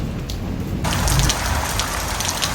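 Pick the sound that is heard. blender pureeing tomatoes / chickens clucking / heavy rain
heavy rain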